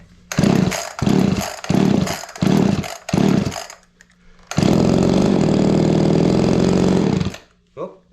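An Echo 280e chainsaw engine sputters through several short bursts from repeated pull attempts, then fires and runs loud and close for about three seconds before cutting out.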